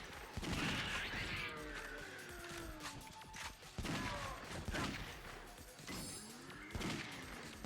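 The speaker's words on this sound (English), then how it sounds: "No, Daigo, don't stop shooting him!" Gunfire in the video game Yakuza Dead Souls: dense, continuous bursts of shots with crashes and thuds over a busy game soundscape, loud and sustained throughout.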